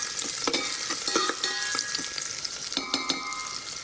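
Garlic and onion fry in a hot pan with a steady soft sizzle, broken by a series of sharp scraping stirs from a utensil against the pan, heard fairly quietly and without talk.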